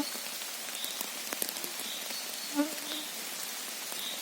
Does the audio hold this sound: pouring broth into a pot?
no